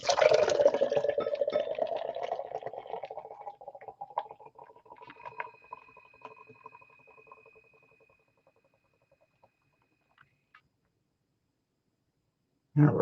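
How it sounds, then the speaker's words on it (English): Beer poured hard into a Carlsberg pilsner glass, starting as a loud gushing splash that gradually thins into trickles and drips and then fades to near silence. "All right, let's pour hard."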